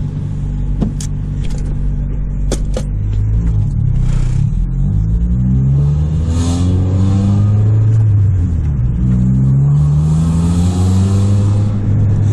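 A 1994 Honda Civic with an eBay aftermarket exhaust rumbles from inside the car. The engine note rises and falls through several gear changes as the car accelerates, loud and continuous with a deep droning tone.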